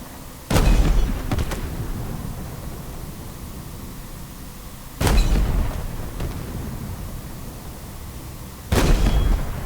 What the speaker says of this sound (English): I'm just shooting at anything that looks like a banished